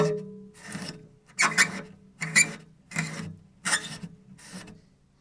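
Cello strings scrubbed firmly to strip rosin, giving six rough rasping strokes in a steady rhythm, close and fairly loud with short pauses between.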